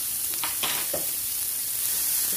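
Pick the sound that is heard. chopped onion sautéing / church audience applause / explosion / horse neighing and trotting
chopped onion sautéing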